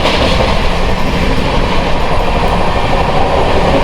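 Sealdah to Banaras Duronto Express running, a loud continuous roar of wheels on rails with rattling carriage noise, heard from inside the moving train.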